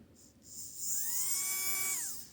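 Small electric motor of a Tyco Silver Streak toy train spinning up, a faint high whine rising, holding steady for about a second, then winding down.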